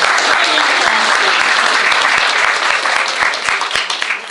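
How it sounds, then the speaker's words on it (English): An audience gives a loud, steady round of applause at a veterans' tribute, the clapping dense and close throughout and tapering slightly at the end. "Let's give Robert a round of applause."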